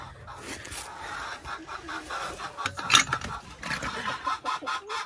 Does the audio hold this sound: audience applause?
no